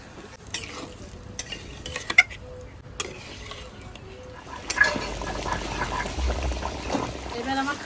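Mutton being sautéed and stirred in a pot for a Bengali curry, with soft scraping and a low sizzle that grows busier toward the end, under occasional talk.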